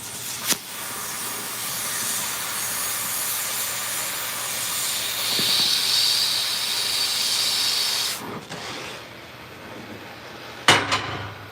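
An oxy-fuel cutting torch cutting through metal gives a loud, steady, close-up hiss for several seconds. It rises briefly in the middle, then drops off, followed by a sharp pop near the end.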